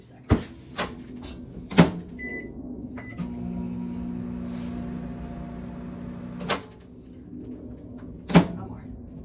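Microwave oven softening butter for cinnamon morning biscuits: a door clunks open and shut, then a low steady hum runs for about three seconds, followed by further door clunks and a final latch.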